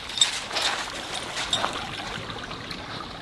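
A creek flows along a hiking trail in a soft, steady hiss of running water with light splashes, heard at moderate distance and fairly faint.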